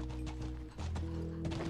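Horse hooves from The Last of Us clop in a quick irregular patter over steady background music tones, briefly pausing midway before resuming.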